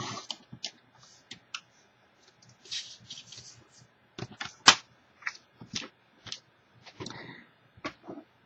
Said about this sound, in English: I am going to cut it on the same side.